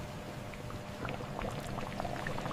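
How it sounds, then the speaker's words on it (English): Sugarcane syrup bubbles in a concentration pan at a large jaggery factory, a steady low seething roar with scattered popping bursts that grow busier toward the end. "the syrup reaches the concentration pan for the last stage of boiling"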